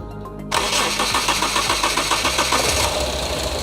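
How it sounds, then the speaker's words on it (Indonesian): Car engine cranking and catching after a brief quiet moment, then settling into a steady, rhythmic idle as it warms up during a tune-up tester check; close and fairly loud, no talking. "Oke, kita hidupkan mesin ini."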